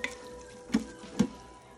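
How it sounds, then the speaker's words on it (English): Pork and sauerkraut being stirred in a pot, with two distinct scraping, sloshing strokes over a quiet background sizzle, close by and with no talking. "Let's just mix this around. All the juicy parts in the bottom."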